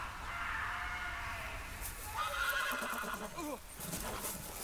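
A horse in the Game of Thrones video game neighs with a long rising and falling whinny, followed by a shorter snort-like call, over faint background game ambience.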